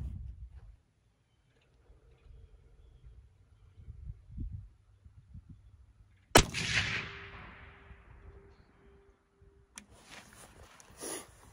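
A Christensen Arms Ridgeline rifle in .300 Win Mag fires a single loud, sharp shot on a range, with a long decaying echo ringing out afterward and a faint second crack or click near the end.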